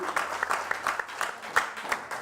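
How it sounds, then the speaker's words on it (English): Scattered applause from a small crowd of football fans gathered for a team show, individual claps fairly distinct and moderately quiet, continuing irregularly without talking. "Give yourselves a round of applause for that."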